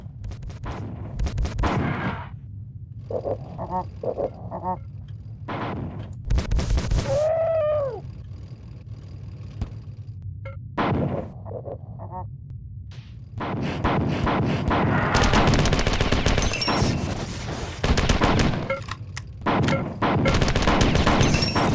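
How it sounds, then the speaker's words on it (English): Assault rifle fire in the video game Marathon 2, loud repeated bursts of shots with heavy booms and explosions, intermittent at first then a long dense barrage of continuous firing toward the end. "This assault rifle is so much better with these guys"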